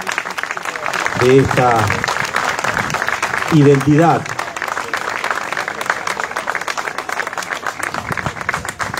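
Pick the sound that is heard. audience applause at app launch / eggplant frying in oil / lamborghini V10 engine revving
audience applause at app launch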